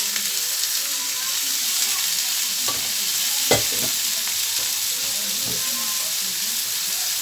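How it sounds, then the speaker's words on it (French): Seasoned fish laid skin-side down in a hot pan, a loud, steady hissing sizzle throughout with a single brief knock midway and faint background murmur. "dans ma poêle, le poisson, côté peau, bien sûr, préalablement assaisonné"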